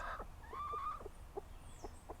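A backyard hen clucks in short, soft bursts close by in the morning before laying her egg, with a longer drawn-out note early on and quieter cackles scattered through.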